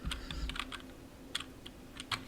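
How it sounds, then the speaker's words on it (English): Fingers typing on a computer keyboard, entering a web address: a quick run of light, close key clicks, then sparser single taps with short pauses, over a low steady hum. "we're ready to type in our URL here"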